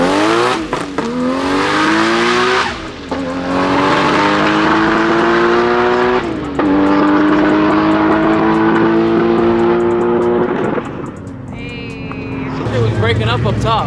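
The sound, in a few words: Nissan Skyline sedan engine breaking up during drag racing pass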